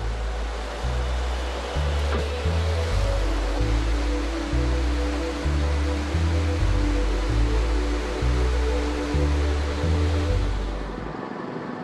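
Rapids on the Belaya River in the Caucasus mountains rush with a loud, constant roar of churning water, with a rhythmic low musical bass line running underneath.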